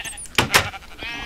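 Two short, close lowing calls from a cow in a hardcore survival video game, standing out over faint background game ambience.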